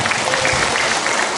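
Brief burst of dense clapping from a mosque congregation during an Isra Miraj sermon, loud and continuous without a break.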